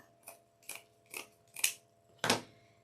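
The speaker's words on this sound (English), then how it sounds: "So you would just want to trim it off" Scissors snip plastic mesh while it is trimmed to fit a deco mesh wreath on a Dollar Tree frame: five crisp, close cuts at a steady rhythm, roughly half a second apart, with the final cut the loudest.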